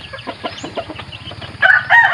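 Chickens cluck softly in a small backyard pen, then a rooster lets out a loud, close crow near the end.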